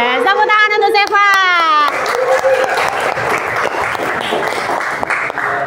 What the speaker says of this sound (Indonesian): Tepuk tangan untuk Seva.